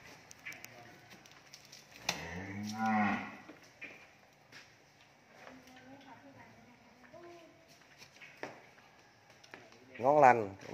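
Cattle on a cattle farm in Ben Tre province, Vietnam, let out two loud, drawn-out moos, one early and one at the end, with quieter farm noises and faint voices in between.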